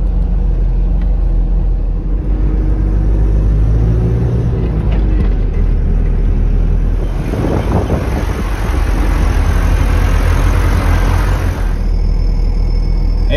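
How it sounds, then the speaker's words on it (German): A camper van drives off-road along a desert track into a canyon in Wadi Rum, Jordan, with a loud, continuous engine and tyre rumble and buffeting wind noise throughout. "Wir fahren jetzt in den ersten Canyon rein."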